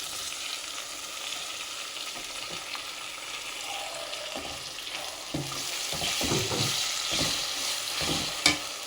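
Tomato frying with ginger-garlic paste in a pan for a North Karnataka capsicum palya, a steady close sizzle with stirring and scraping knocks that grow busier toward the end, no talk.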